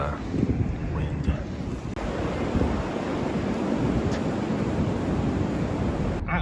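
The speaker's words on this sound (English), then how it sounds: "Now we've got snow and wind." Strong wind roars steadily outdoors during snowy weather, a loud, continuous broadband rush with buffeting gusts and microphone rumble, with no speech over it.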